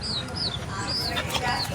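Backyard chickens cluck and chicks peep in short, high repeated calls close to the microphone, over a rustling outdoor background with a dog nearby.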